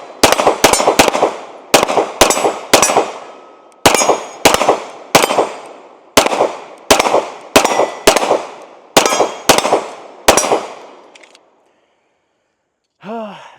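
A Sig P320 SXG pistol fires about sixteen sharp, loud shots in quick strings with short pauses, each crack ringing out briefly before the next, followed by silence and a brief voice at the end.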